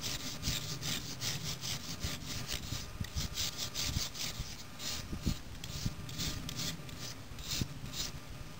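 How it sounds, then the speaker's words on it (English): A wire brush scrubs a concrete curb surface to clean it before a Curb-Lite installation, making close, rhythmic back-and-forth scraping strokes that repeat steadily with a few sharper knocks, and no voices. "take the wire brush and clean the area"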